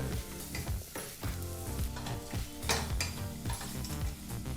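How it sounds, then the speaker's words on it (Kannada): Spice powders, including garam masala, are stirred and toasted in a hot pan for tomato biryani, giving a close, continuous sizzle with scraping stirs and light clinks of utensil on pan throughout. "ಈ ಎಲ್ಲ ಮಸಾಲ ಪುಡಿನೂ ಒಂದು ಮೂವತ್ತು ಸೆಕೆಂಡ್ ಬೆರೆಸಿ ಬಿಸಿ ಮಾಡಿಕೊಂಡ್ರೆ ಸಾಕಾಗುತ್ತೆ"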